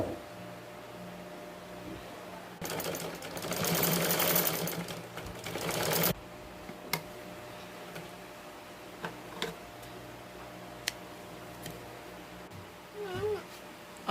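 A sewing machine stitches the shoulder seam at the neckline of a nightie in one steady buzzing run lasting about three seconds, followed by scattered small clicks and taps of fabric handling.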